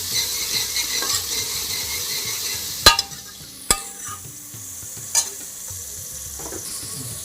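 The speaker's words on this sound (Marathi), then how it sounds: "आता ही तिन्ही सामग्री ह्याचा रंग गुलाबी यायला पाहिजे तर आपण हे असं परतून घ्यायचं" Green chilies and garlic sizzling in a pan while being stirred, a steady close frying hiss broken by a few sharp clinks of a utensil against the pan.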